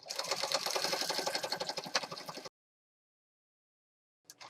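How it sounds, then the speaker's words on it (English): A sewing machine stitching across a journal page, a close rapid mechanical whirring chatter for about two and a half seconds, then silence before a brief restart at the end. "I'm just going to stitch right across here"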